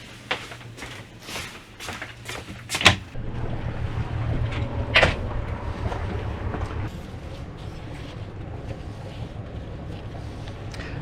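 A Ranger Tug boat engine idles with a steady low rumble, with a few knocks and clatters close by early on.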